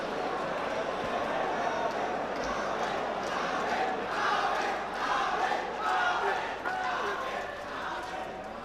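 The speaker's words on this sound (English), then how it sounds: "And now the Albin Ocean cheering section find their voice" Crowd of pool fans at the 2023 Hanoi Open Pool Championship final, a cheering section roaring steadily throughout, loud and dense with swelling shouts.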